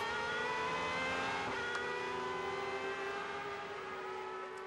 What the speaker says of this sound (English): Let's listen at the V12.